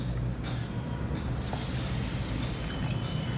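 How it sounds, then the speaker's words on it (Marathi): Water is poured onto basmati rice in a bowl, giving a steady, close, rushing splash with a faint clink partway through. "यामध्ये पाणी घालूया"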